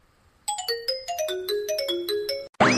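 A cartoon phone rings with a bright electronic melody of quick descending tones lasting about two seconds, then cuts off into a brief burst of another sound; no one speaks.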